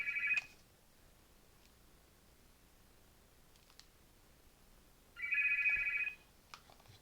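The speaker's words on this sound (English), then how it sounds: "Damn phone call, man." Incoming phone call ringing in two bursts of a steady electronic tone, one at the start and another near the end, with a long quiet gap between and faint clicks in the room.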